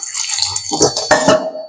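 Water pours in short splashy bursts into a bowl of sandwich batter mix with salt, running steadily close by with no voices.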